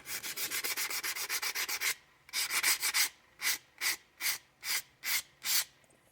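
Sandpaper rubbing a revolver frame down to bare metal, a steady run of quick scratchy strokes for two seconds, then a pause and six slower, evenly spaced rasping passes, close and clear.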